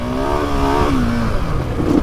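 A KTM 690 Enduro R single-cylinder motorcycle engine revs steadily close by, its pitch climbing and then easing slightly, loud and alone with no voices.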